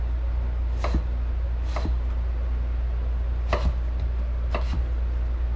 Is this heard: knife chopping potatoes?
yes